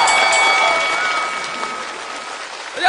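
A studio audience at a Chinese comedy roast show applauds for comedian Hu Lan's turn on stage, a steady wash of clapping that holds loud throughout and fades slightly toward the end.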